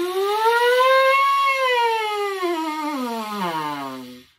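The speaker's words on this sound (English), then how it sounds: "playing a rainbow means I'm going to start really low in my buzz, and then I'm going to go really high" A trumpet mouthpiece buzz starts low, slides smoothly upward, then glides back down in a siren-like sweep, a single clear, bright and buzzy tone played close with no talk.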